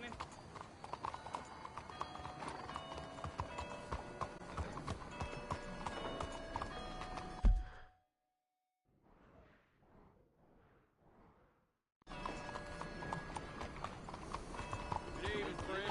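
Horse hooves clip-clop at a steady trot in Red Dead Redemption 2, close and continuous under a game soundscape with voices; the sound breaks off into near silence midway with a few soft hoof-like taps, then the riding resumes.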